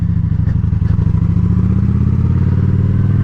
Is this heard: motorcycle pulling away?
yes